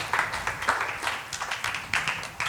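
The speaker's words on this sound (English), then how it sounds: "Please, a huge round of applause." Audience applause at a cultural talk event, heard as a few seconds of scattered, moderately faint clapping from a crowd in a hall.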